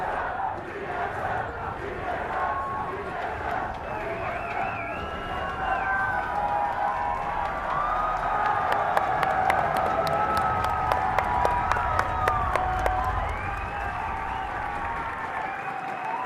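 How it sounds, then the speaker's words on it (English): Large esports arena crowd at the League of Legends IPL4 Grand Finals roaring, cheering and applauding TSM's championship win, a dense sustained wall of voices and clapping with chanting and shouts rising midway. "The crowd is going insane."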